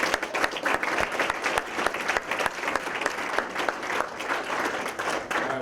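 An audience bursts into sustained applause after a startup talk, with dense, steady clapping that keeps going throughout.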